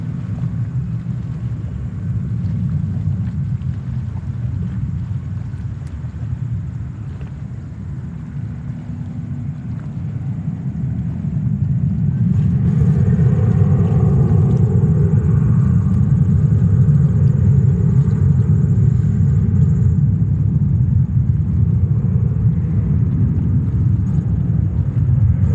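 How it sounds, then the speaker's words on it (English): An Air France Airbus A350-900 arriving from Paris lands on runway 31 Right at JFK, a distant broad jet roar that swells to a loud, sustained rumble with a whining engine tone midway. "Air France 350-900 coming in from Paris on 31 right."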